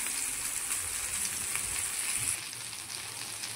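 Tuna pieces frying on a hot tawa for a Mangalorean fish fry, giving a steady close sizzle and crackle of oil that eases slightly partway through, with no one speaking.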